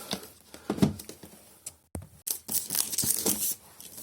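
Packaging of an EZVIZ C6N surveillance camera is torn open up close, in irregular ripping and crinkling bursts separated by short quiet gaps.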